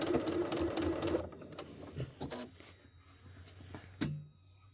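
A sewing machine runs a back stitch at reduced speed: a fast, rapid chatter for about a second, then quieter scattered clicks and handling noises, with one sharp knock near the end.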